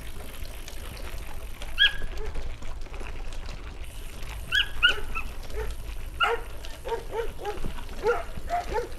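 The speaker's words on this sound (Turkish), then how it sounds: "Onlar niye o kadar havladı ya?" Several farm dogs near a rural settlement bark repeatedly at passing cyclists, sharp scattered barks and yips from close and farther away, over steady outdoor background noise and wind.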